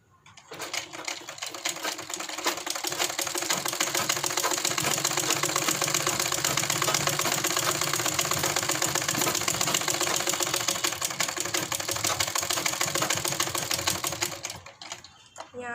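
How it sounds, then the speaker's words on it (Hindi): An electric sewing machine runs steadily and close by while stitching a seam on an angrakha garment, giving a continuous fast mechanical rattle that starts and stops cleanly. "तो वो इसके ऊपर इधर से एक सिलाई और लगाते हैं।"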